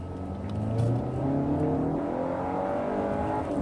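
A Range Rover Evoque's 2.0-litre turbocharged four-cylinder engine pulls from a roll, a moderate, rising drone with a faint turbo whir, heard from inside the car with no voices.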